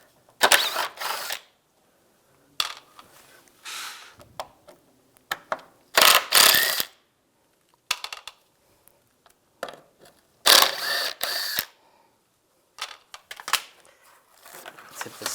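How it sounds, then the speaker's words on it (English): A ratchet with a T30 socket backs out the radiator screws on a 1999-2005 Volkswagen Jetta, in repeated bursts of rapid clicking separated by pauses, close and crisp, with occasional talk between. "we're going to take these 4 screws out, 2 on this side, 2 on the other. Use the same T30 socket"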